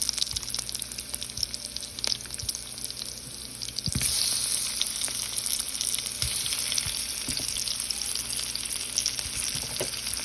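Mango pieces fry in hot oil with mustard seeds, onion, fenugreek and curry leaves, giving a steady close sizzle with a burst of spitting when the mango goes in and occasional stirring clicks.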